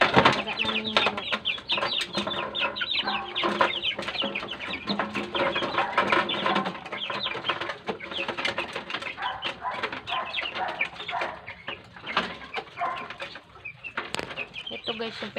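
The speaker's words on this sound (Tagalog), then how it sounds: "magpapakain ako ng alaga naming manok." A flock of chickens and chicks clucks and peeps continuously at feeding time, busy and close, with occasional rustling and flapping.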